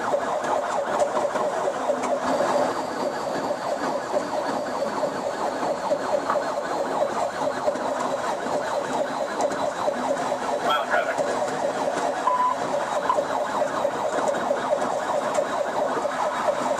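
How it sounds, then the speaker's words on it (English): A police car siren wails through a high-speed pursuit, steady and continuous over rushing road noise, fairly loud and unbroken throughout. "the officer sounded his siren and began a high-speed pursuit."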